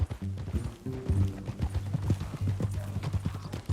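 Horse hooves clip-clop in a steady walking rhythm in Red Dead Redemption 2, close and fairly loud, with a low tonal hum of game music or ambience running underneath.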